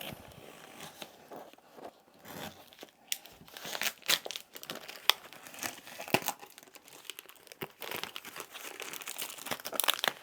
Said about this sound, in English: Very carefully, we're going to unbox this